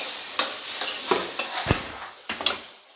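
Onion, green chili, tomato and capsicum for Manchurian sizzle softly in a pan while a spoon stirs them, giving several sharp scraping knocks over the steady frying hiss.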